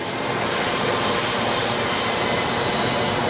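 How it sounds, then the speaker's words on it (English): A Bombardier Challenger 300 business jet taxis for departure at Geneva Airport, its engines producing a steady, loud broadband roar that holds even for the whole stretch with no talk over it. "taxiing for departure. Bombardier. Tap on the taxi."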